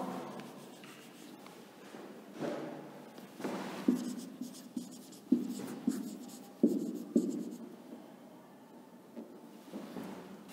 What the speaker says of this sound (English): Let me write the keywords for this.